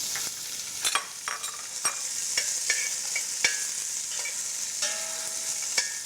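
Tofu and bean sprouts fry in a pan with a steady, close sizzle, broken by sharp clinks and scrapes of a utensil stirring, with no talking.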